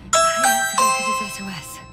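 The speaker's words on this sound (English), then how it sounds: "I thought it was a doorbell." A doorbell-like chime rings out from a button pressed in the sci-fi game The Invincible, a bright two-tone ding-dong repeating a few times with lingering ringing tones, a voice murmuring faintly underneath.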